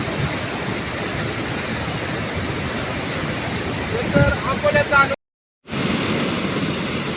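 A rain-swollen stream in flood near farm fields rushes with a steady, broadband roar of water close by, briefly interrupted by a cut, with a voice speaking over it.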